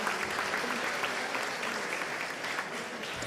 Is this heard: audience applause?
yes